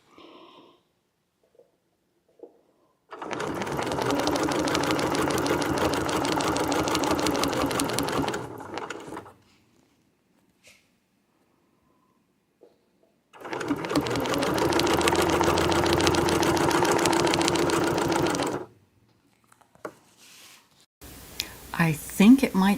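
A sewing machine stitches in two steady runs of several seconds each, loud and even, with near silence between them and a voice starting up briefly at the end.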